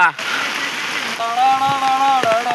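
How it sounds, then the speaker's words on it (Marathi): Steady hiss of heavy rain falling close by during a Ganpati immersion in Chiplun, Konkan, with a voice talking over it in the second half. "मुसळधार पाऊस आलेला आहे"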